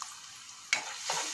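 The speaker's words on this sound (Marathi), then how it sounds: "छान हे असं हलवून घेऊयात." A spoon stirs chana chaat seasoned with red chilli powder, chaat masala and salt, making two brief scraping swishes in quick succession with no talking.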